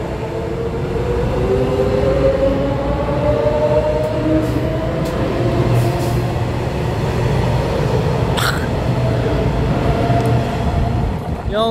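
EMU518 and EMU507 electric multiple units run as a local express pulling away from Su'ao station on the Yilan line, a loud steady rumble of wheels and motors that fills the whole stretch, with a brief hiss near the end.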